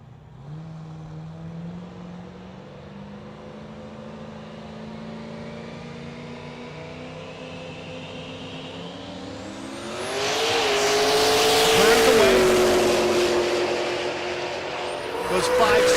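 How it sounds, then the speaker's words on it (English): A first-gen Camaro race car with a big new turbo, struggling to spool at altitude, accelerates down a drag strip, its engine note climbing into a loud, rising scream. A commentator talks over it. "that's Clint Sadowski in the right lane, the first-gen Camaro. Clint having huge problems getting that big old new turbo spooled up here"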